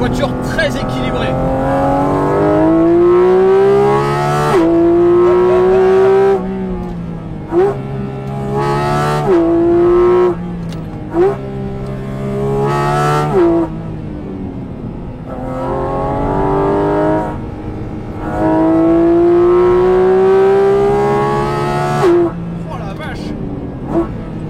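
Inside a Porsche Cayman GT4 RS driven hard on a fun stretch of road, the intake roar rises and falls through repeated gearshifts, loud and close, with brief lifts between pulls.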